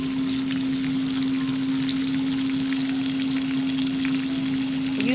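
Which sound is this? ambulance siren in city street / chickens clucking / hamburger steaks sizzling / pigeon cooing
hamburger steaks sizzling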